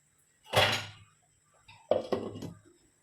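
A lid is set down on a pot of brinjal curry, first with a single soft clunk, then a couple of quick rattling knocks as it settles, close and moderately quiet.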